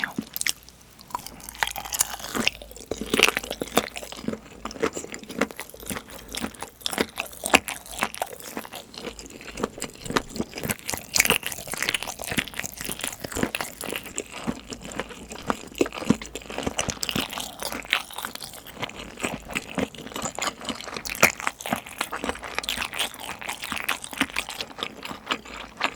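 Continuous close crunchy chewing and biting of whole seasoned pyeonyuk, pressed boiled meat, with dense rapid mouth sounds and no talking.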